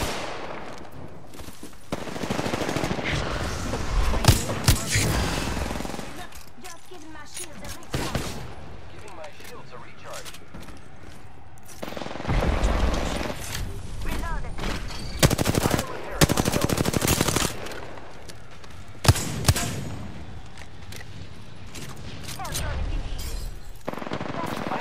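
Dense automatic gunfire in Apex Legends battle royale, long loud bursts of rapid shots with sharper single cracks between them, while a character's voice calls out over the fighting.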